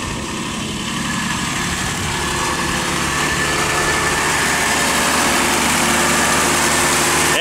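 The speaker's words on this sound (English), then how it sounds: "Engine's running." A convertible car's engine idles steadily and close by, a continuous even rumble with a faint high whine and no talking over it.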